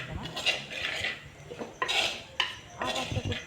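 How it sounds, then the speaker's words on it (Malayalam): Metal spoon scraping and clinking against a pan while Kashmiri chili powder is stirred and sautéed for fish curry, a series of close, irregular scraping strokes with faint sizzling underneath, no voices. "ഇനി ഇതിൻ്റെ പച്ചമണം മാറുന്നത് വരെ നന്നായിട്ടൊന്ന് വാട്ടിയെടുക്കണം"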